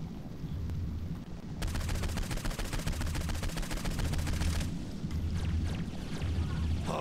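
Sustained rapid gunfire in the video game Saints Row IV, a continuous rattling automatic barrage running for several seconds over a rumbling background of action noise.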